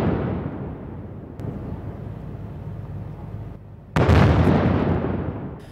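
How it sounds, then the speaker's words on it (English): Cannon fire from a 21-gun salute for a visiting head of state, heard as a distant rumble followed by one loud, sharp boom that slowly rings away. "As the norm, Magufuli would receive a 21-gun salute, the highest military honor"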